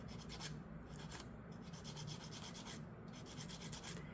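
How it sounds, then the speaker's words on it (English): A 180 grit file rasps against the tip of a piece of sea glass in rhythmic back-and-forth strokes, soft and close, with brief pauses between passes. "I'm going to get my file. It's 180 grit."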